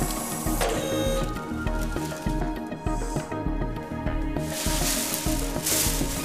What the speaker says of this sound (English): FOAMplus, the reliable handheld dispensing machine.